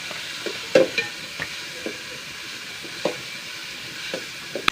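Finely chopped onions frying in a pan until golden, a soft continuous sizzle broken by occasional stirring scrapes and clinks, fairly quiet and without talk.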